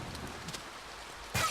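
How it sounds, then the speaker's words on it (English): Soft, steady rain hiss in the Jade Creek stage of the video game Freedom Planet, a nighttime thunderstorm scene, with a brief louder burst near the end. "You hear the rain."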